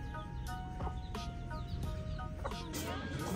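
Chickens cluck in short, repeated bursts at a farm beside a tropical greenhouse in Gonbad, at moderate distance over a soft background hum.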